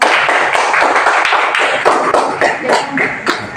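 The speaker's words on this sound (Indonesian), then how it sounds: "Kasih tepuk tangan." A classroom of students claps together, a brisk, dense burst of hand claps that stays loud and close for the whole stretch with no talking.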